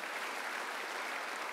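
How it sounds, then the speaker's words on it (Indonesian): A church congregation applauds for the king during a worship service, a dense, steady wash of many hands clapping together with no talk over it. "Tepuk tangan buat raja kita."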